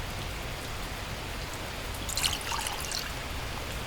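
Steady rain in the survival game The Last Plague: Blight, a continuous even patter with a brief brighter splash of drips partway through, moderate and without speech.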